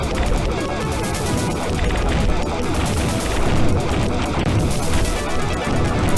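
Turrets and enemy ships fire nonstop in the Tyrian shooter, making a loud, dense wall of rapid blasts and crashes that runs through the whole stretch without a break.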